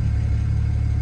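A BMW 335i engine idling with a deep, steady rumble, loud and close, with no talking.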